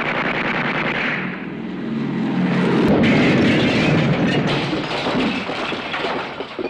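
Nazi warplanes, a pair of Heinkel bombers in the war film Patton, roaring low overhead with a loud engine drone mixed with crackling gunfire and explosions, dense and continuous, no talking.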